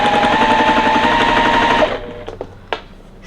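A sewing machine stitches a quilt block along a marked line in a fast, loud mechanical whir that stops abruptly, followed by a few light clicks and taps.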